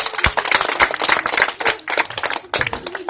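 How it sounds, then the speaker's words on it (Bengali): Loud, dense applause from an audience at a batch award ceremony held by a tuition class, a steady patter of many hands clapping close by with no break. "জোরে হাততালি।"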